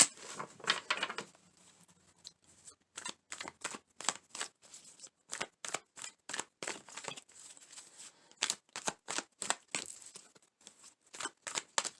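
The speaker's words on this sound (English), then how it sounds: "Let me shuffle this one more time." Tarot cards being shuffled by hand: a soft crinkly riffle at first, then a long run of quick, sharp flicks in a steady rhythm, close and clear with no talking.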